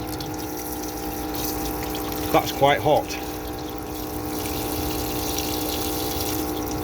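A small water pump on a diesel heater hot water system hums steadily at close range, a constant mechanical drone with faint water flow, while a person briefly speaks over it.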